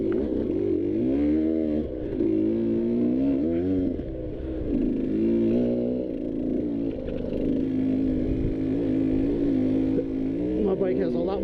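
A KTM 150 XC-W two-stroke dirt bike engine revs up and down while riding, its pitch rising and falling in repeated surges, loud and close throughout, with wind noise.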